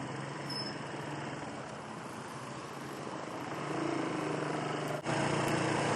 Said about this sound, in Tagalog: Ang walang humpay na traffic